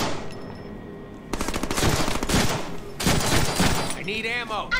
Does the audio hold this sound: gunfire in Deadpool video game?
yes